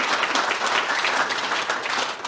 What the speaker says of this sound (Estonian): palun veel üks aplaus Rasmusele ja ta perele ka kindlasti.